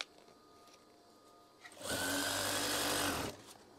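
Sewing machine stitching a folded eyelet curtain hem, running in one steady loud burst of about a second and a half after a quiet moment, with no talk.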